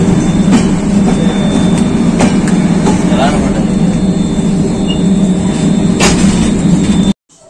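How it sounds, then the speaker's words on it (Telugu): A train pulling into the platform at Vijayawada station: a loud, steady rumble of wheels and carriages with faint clattering, which cuts off abruptly near the end. "ట్రైన్ అయితే విజయవాడలో అయితే ఆగింది"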